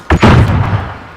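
A flashbang grenade detonates in the shooter Modern Warfare: one sharp, loud bang, then a heavy rumbling boom that slowly fades.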